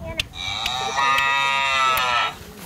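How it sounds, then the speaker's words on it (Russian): A single long cow moo, loud and near, with a few faint clicks around it. "Корова."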